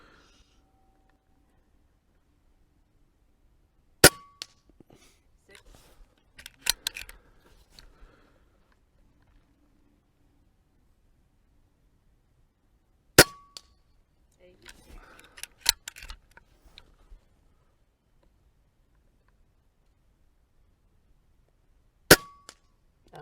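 An Umarex Notos regulated micro carbine PCP air rifle fires three sharp, evenly spaced shots that ring out against a quiet range, with faint handling noise and low murmuring between shots.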